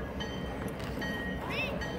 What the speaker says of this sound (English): You see the train, Ryan?